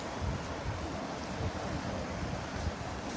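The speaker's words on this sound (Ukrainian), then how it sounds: "Гляньте, як дуже швидка течія." Steady rushing water of a fast river in a park in Legnica, Poland fills the clip, a broad continuous roar of fast-moving current with no voices, close and fairly loud throughout.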